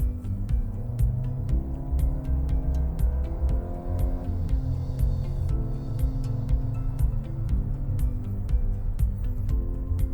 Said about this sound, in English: I'll show you a little bit of the acceleration here.